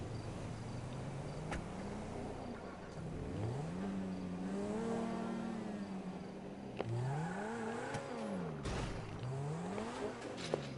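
Ferrari car engines rev in a hillside garage, several rising and falling engine notes sweeping up and down at close range over a steady background hum.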